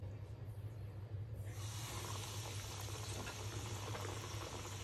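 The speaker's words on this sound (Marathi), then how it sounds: "तर आता मी तळताना दाखवते." Stuffed bombil fish rolls fry in hot oil over a medium flame, giving a steady bubbling hiss that grows brighter and fuller after about a second and runs on without talk.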